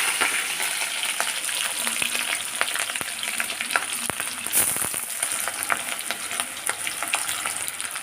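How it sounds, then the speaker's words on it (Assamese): Chopped green chillies, garlic and onion fry in oil in a pan for a dried-fish chutney, giving a steady close sizzle broken by occasional scraping stirs, with no talking. "নহৰু আৰু পিঁয়াজখিনি প্ৰথমে ভাজি লৈছোঁ অলপমান"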